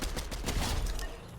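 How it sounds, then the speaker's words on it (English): Gunfire in the Fortnite video game: a rapid burst of repeated shots in quick succession, loud and close, fading out at the end, with no talk. "who's shooting at me?"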